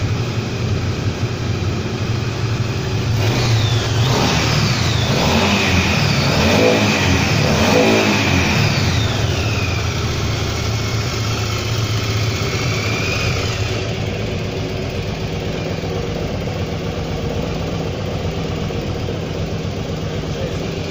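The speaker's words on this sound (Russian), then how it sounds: "Мотоцикл работает ровненько, никаких проблем с двигателем нет." A 2008 Yamaha Drag Star 1100 motorcycle engine runs close by, idling steadily with a stretch of throttle blips and revving in the middle before settling back to an even idle.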